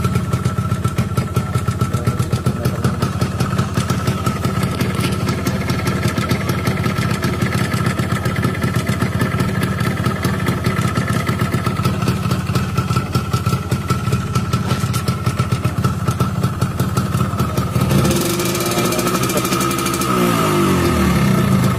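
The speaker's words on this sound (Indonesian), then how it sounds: "tes mesinnya" A Yamaha RZR motorcycle engine runs loud and close throughout with a rapid, steady putter, then revs up near the end before settling back, with no talking over it.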